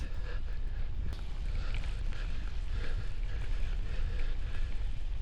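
Steady headwind buffeting a microphone on a bicycle climbing a hill outdoors, a continuous low rumble with airy hiss throughout, no voices.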